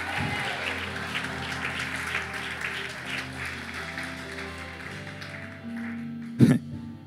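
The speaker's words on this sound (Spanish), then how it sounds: "Dale un aplauso a Dios." Church congregation applauding during a sermon, a broad steady wash of clapping with crowd noise lasting several seconds before easing, then a brief louder burst near the end.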